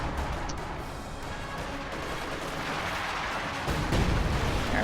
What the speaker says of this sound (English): is that an ML-20? Yes, it is. Firing at the building.